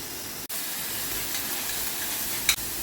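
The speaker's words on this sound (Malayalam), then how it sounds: "ഇതിലേക്ക് ഒരു ചെറിയ കഷ്ണം സവാള പൊടി കഴിഞ്ഞ് കുറച്ച് വെളുത്തുള്ളി ഒരു രണ്ടല്ലി ഒന്ന് വഴറ്റിയെടുക്കാം" Onion and garlic sautéing in oil give a bright, steady sizzle close to the pan, broken by two brief dips and a small spike of spattering, with no voices.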